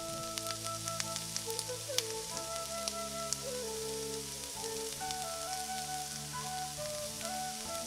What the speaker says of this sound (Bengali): পাঁচফোড়ন অ্যাড করার পরে আমরা পেঁয়াজটাকে আরো কিছুক্ষণ ভেজে নেব।